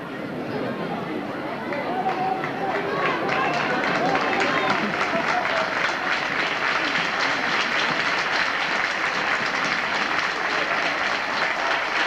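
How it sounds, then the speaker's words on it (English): A crowd at a 1981 rugby league match between Penrith Panthers and Newtown Jets applauds steadily as an injured player leaves the field, with a commentator talking over the sustained clapping. "The crowd applaud Brayman from the field"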